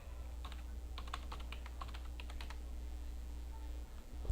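Keystrokes on a computer keyboard come in quick irregular bursts, fairly close and distinct, over a steady low hum with no talking.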